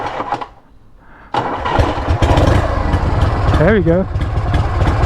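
A Harley-Davidson motorcycle engine, choke on, catches after a quiet pause and settles into a loud, steady close idle with a throbbing low rumble, while a voice speaks briefly over it.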